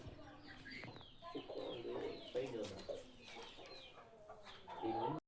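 Game chickens on a breeding farm, a rooster and hens, cluck and call close by in a steady, busy stream of farmyard noise, with a brief muffled voice and a sharp knock at the end.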